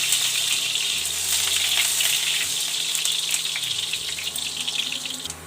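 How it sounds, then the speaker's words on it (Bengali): Potatoes fry in a pan over dried chilli and cumin with a steady, close hiss and sizzle that fades slightly toward the end, with no talking. "এবার আমি একটু আলুটা ভেজে নেব"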